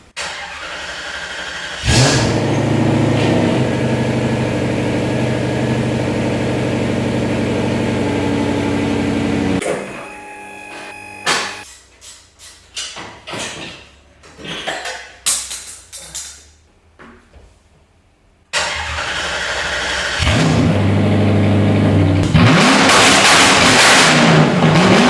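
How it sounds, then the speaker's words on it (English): A vehicle engine fitted with an exhaust muffler runs loud and close, drops to quieter uneven bursts partway through, then roars back up to a sustained rev. "this is how it sounds with muffler"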